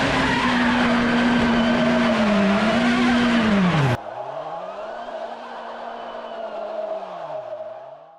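A Toyota car drifts autonomously, its tires squealing in long, loud, wavering howls over engine roar, then the squeal continues more distantly and quietly after an abrupt cut.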